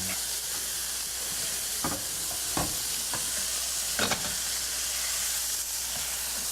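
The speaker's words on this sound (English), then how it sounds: "I'm stirring the meat." Meat fries in a casserole for beef burgundy, giving a constant hissing sizzle broken by a few sharp spoon scrapes as it is stirred, with no talking.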